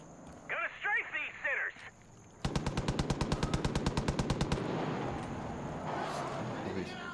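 Rapid gunfire from strafing enemies in the video game Far Cry 5: a steady burst of about twenty evenly spaced shots, loud and close, preceded by a voice and followed by game ambience.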